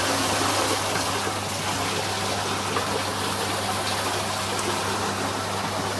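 Steady, loud rushing of water through a culvert section placed in a laboratory hydraulic flume, the broadband gush continuous and close with a constant low pump hum underneath, no voices.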